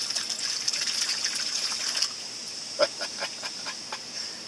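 Drinking water poured from a container into a dry bag, a steady gushing hiss for about two seconds followed by softer splashing trickles and drips.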